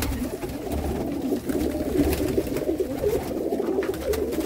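Pigeons coo continuously at a pigeon sale in Jammu, a dense low murmur of many birds close by with no voices over it.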